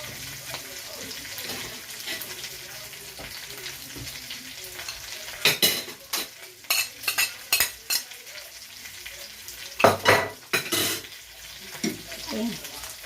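Meat ribs and rosemary stirred in a hot pan, a steady frying sizzle broken by sharp scraping strokes and clinks of the spoon, clustered in bursts toward the end.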